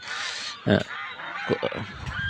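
Several loud, nasal honks from ducks, spaced irregularly amid a busy, crowded background of poultry market noise.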